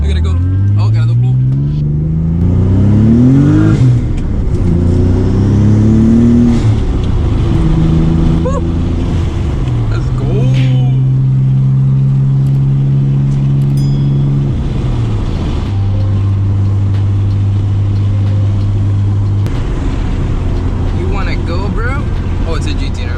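A twin-turbo Nissan 300ZX revs hard through repeated rising pulls with gear changes, loud and close from inside the car, then settles into steady held engine tones.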